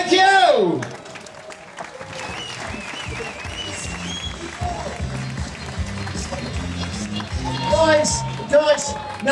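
An audience at a live podcast festival breaks into applause for a stand-up performer, with clapping and cheers heard under a host's voice.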